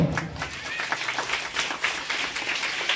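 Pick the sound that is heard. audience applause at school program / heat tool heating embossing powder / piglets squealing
audience applause at school program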